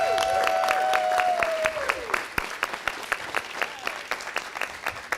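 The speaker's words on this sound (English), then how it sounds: "Let's give them a round of applause." Sustained applause from a city council chamber audience in Las Vegas, Nevada, honoring the Summerlin South Little League team; dense, steady clapping with a brief whistle-like tone early on, gradually thinning toward the end.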